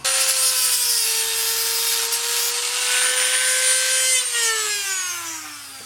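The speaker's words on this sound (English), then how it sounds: "I'm just going to take the Dremel and clean up these notches a little bit" A Dremel rotary tool grinds notches into Porsche 928 parking brake shoes, a steady high whine that holds for several seconds with no talk, then drops in pitch as the tool winds down at the end.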